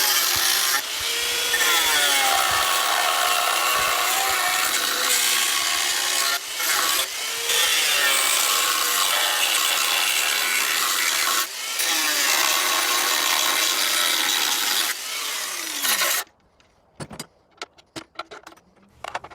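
Cutting back metal parts close to the rivets on a John Deere JX85 lawnmower during restoration, a loud continuous grinding or cutting noise with brief breaks, stopping near the end to leave scattered faint clinks.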